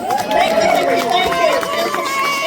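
A crowd at a One Nation rally in Rydal, New South Wales, with lively cheering and chatter, fairly close and loud, rising and falling in waves over a couple of seconds.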